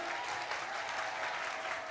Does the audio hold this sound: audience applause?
yes